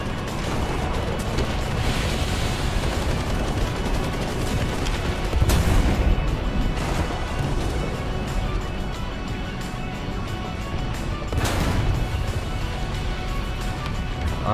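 Tank cannon in War Thunder firing a HEAT shell: two heavy booms about six seconds apart, each standing out over a constant rumble of engine and battlefield noise.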